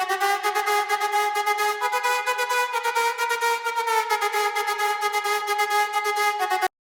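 A dry synth loop with no effects, for a beat, plays steady sustained tones with a fast, even pulsing rhythm throughout and no voices, then cuts off abruptly at the end.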